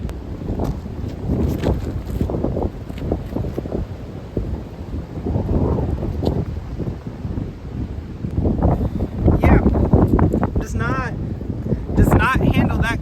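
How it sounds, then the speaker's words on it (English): Strong gusty wind buffets a microphone outdoors near a sailing or water setting, a loud continuous roaring rumble with surges, while people talk intermittently over it. "This is how much wind."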